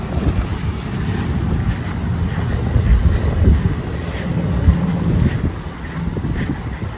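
A new boat on the ocean during its first launch, with a steady loud rush of wind and water and a low engine-like rumble throughout, with no talk.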